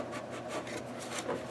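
A blade scrapes and cuts into a piece of plastic to cut a shallow trench, producing quiet, steady rubbing and rasping strokes close by with no talking.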